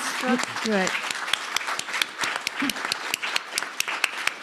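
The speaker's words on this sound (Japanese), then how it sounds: "大きな拍手をお送りください" Audience applause at a wine tasting seminar in Tokyo, a room of people clapping in quick irregular claps after someone speaks briefly, the clapping carrying on steadily under and after his voice.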